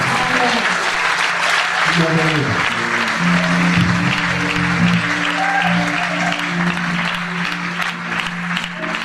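A church congregation at a deliverance service claps and cheers loudly for several seconds, with voices and singing mixed into the applause.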